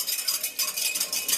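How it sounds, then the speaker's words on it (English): Rum is stirred into a cranberry sorrel punch, giving a short burst of light clinking and swishing. It is fairly quiet and close, with no talking. "And you're going to give that a good mix."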